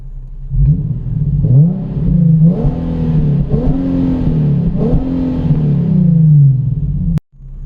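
Infiniti G37 with its VQ V6 engine revving through the exhaust, a loud, close growl rising and falling in several repeated pulls, alone with no talk.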